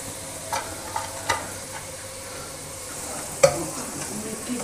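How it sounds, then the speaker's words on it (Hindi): Vegetable pakoras lifted out of hot frying oil, a steady soft sizzle running throughout with a few sharp clinks of a slotted spoon or utensil against the pan, close by. "अच्छा जी, पकौड़े जो हैं इनको निकालते हैं।"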